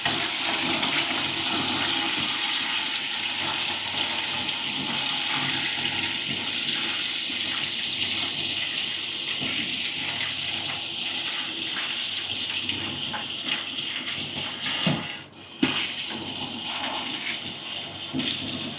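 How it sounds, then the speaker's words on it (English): Hot water runs hard from a kitchen tap, a steady loud gushing stream that continues almost unbroken, with a brief clatter near the end. "you hear the running tap because my tap is actually hot"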